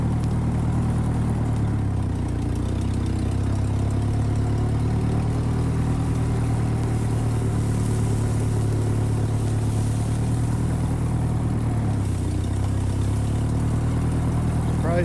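A 1951 Ferguson TEA20 tractor engine runs steadily while driving, a continuous low mechanical drone with slight shifts in pitch as it moves, loud and close throughout with no voice over it.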